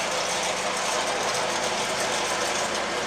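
A pelleting machine in a home fish feed mill runs steadily, giving a continuous loud mechanical drone with a rattling, knocking texture and no pauses.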